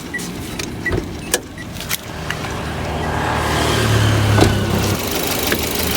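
Mitsubishi Xpander 1500cc 4A91 four-cylinder engine running at idle, a steady low hum that swells slightly midway, with a few sharp clicks and knocks near the car.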